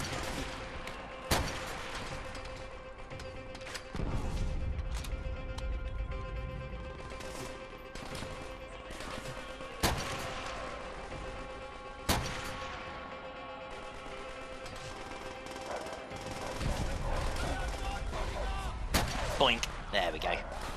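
Cannon artillery fire in the World War II shooter Call of Duty: World at War, with several loud booming shots spaced seconds apart over rumbling battlefield noise and scattered gunfire.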